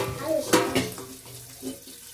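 A glass of water splashes into a cooking pot of stuffed red okra curry, a short close pour with a sharper burst midway, then fading into low kitchen clatter.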